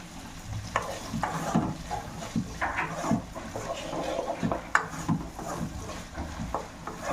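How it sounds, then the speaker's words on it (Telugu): Chopped onions with salt fry in a pan, a continuous close sizzle broken by irregular scraping stirs of a spoon against the pan, with no talking. "ఉల్లిగడ్డ దోరగా వేగిందండి"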